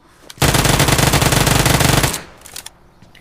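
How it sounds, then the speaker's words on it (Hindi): Loud sustained automatic gunfire in the PUBG/BGMI battle royale game, a dense rapid burst lasting about two seconds, then a few scattered shots trailing off. "यहाँ पर इतनी फायरिंग हो रही थी"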